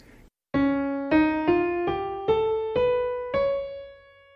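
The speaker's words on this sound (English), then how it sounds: "The other whole tone scale uses the other two black keys and it sounds like this." Second whole tone scale played on piano, six clean notes climbing evenly one after another with sustained ringing tones, played alone and close after a brief silence.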